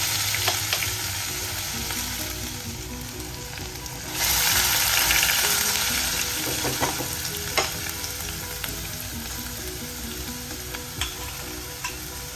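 Garlic fries in a pan with toasted cumin seeds, giving a steady close sizzle that swells louder as the garlic goes in and crackles on without pause.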